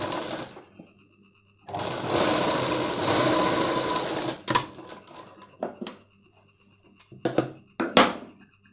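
A tailor's sewing machine stitches blouse shoulder seams in one sustained whirring run, followed by short stop-start bursts and clicks as the fabric is adjusted.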